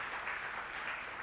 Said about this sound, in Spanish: Si ese aplauso es para el Rey, déselo con todo su corazón